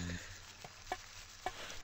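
Onions sizzling on the hot dog grill in the Papa's Hotdoggeria cooking game, a soft steady fry with a few faint clicks from the game interface, and no talking.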